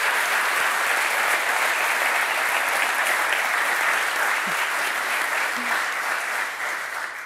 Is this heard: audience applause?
yes